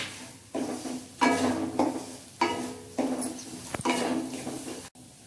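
Coconut roasted in a pan for gujiya filling, stirred in several scraping, rustling strokes with short pauses between them, close by, with a sharp knock near the end.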